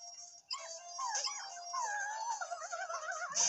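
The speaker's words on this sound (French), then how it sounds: "Oh, le chien" A dog in the video game Super Mario Odyssey howls and whimpers in long wavering yelps, loud and continuous over game sounds.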